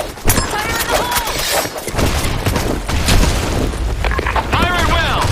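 A grenade explodes in a military shooter video game with a deep, booming burst amid ongoing in-game combat noise, while voices talk over the action.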